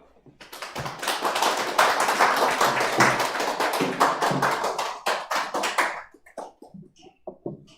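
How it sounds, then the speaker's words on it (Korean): An audience at a history lecture claps to welcome the speaker, swelling from a few hands into loud, dense applause before breaking into scattered single claps that trail away. "큰 박수로 모시겠습니다"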